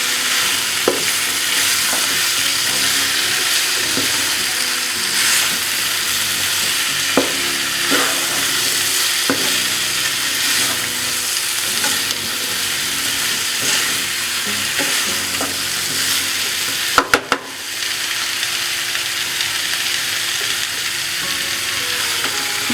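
Spicy chicken roast masala with Kashmiri red chilli stir-fries in a pan, a steady loud sizzle with frequent scraping spoon strokes and a few sharp clanks near the end.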